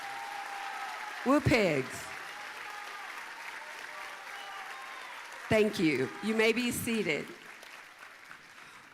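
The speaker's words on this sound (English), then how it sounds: "Could we have a round of applause for the Arkansas University of Arkansas?" A Heritage Commitment Ceremony crowd applauds the University of Arkansas in a steady wash of clapping, broken by a brief cheer and later a voice speaking over it.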